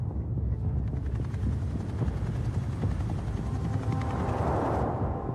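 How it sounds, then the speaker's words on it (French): A helicopter arriving over the Réau prison produces loud, continuous rotor thumping with a dense low rumble throughout, close overhead. "l'hélicoptère arrive au-dessus de la prison de Réau"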